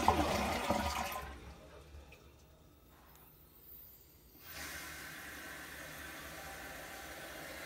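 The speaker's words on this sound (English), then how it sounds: "Someone needs to flush it." A toilet flushes with a loud rushing burst of water at the start that drains away into quieter gurgling, followed by a steady hiss of refilling water.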